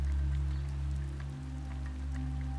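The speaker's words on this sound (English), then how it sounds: "A delicate rain pattering on the glass gently eases Lily" Gentle rain patters steadily on window glass, a soft continuous wash of droplets over a low, even hum, with no voices.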